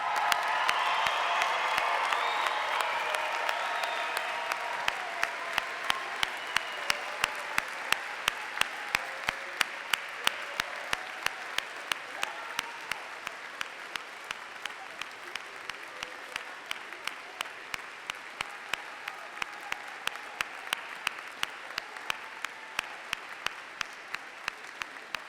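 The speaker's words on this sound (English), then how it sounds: "please stand and give our graduates one final round of applause." Standing audience at a college commencement hooding ceremony gives graduates a long final round of applause, broad clapping fading gradually over about twenty-five seconds, with occasional cheers and whoops mixed in, fairly distant.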